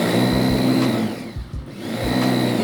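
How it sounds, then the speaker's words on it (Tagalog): An electric grinder whirs loudly while grinding fresh garlic, with a steady high motor whine that briefly dips and cuts out midway before spinning back up to full speed. "grind ko yung garlic. Gamit yun ng grinder."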